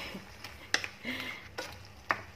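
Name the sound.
shrimp head sauce cooking with mung beans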